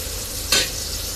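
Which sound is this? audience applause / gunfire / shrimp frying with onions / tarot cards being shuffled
shrimp frying with onions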